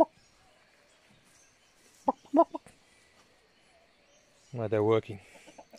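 Backyard chickens cluck in short bursts near a fig tree. One near, loud squawking call rises above the rest, and someone speaks briefly in between.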